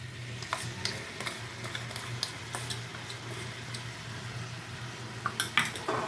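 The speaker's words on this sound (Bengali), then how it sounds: "এখন এটাকেও খুব ভালো করে মিশিয়ে নেব লাউয়ের সাথে" Ground mustard and radhuni paste being stirred into bottle gourd in a pan, repeated light clinks and scrapes of a spoon on metal over a low steady hum, with a brief cluster of sharper knocks near the end.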